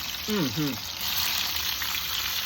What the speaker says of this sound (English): And there is our sauce boiling down.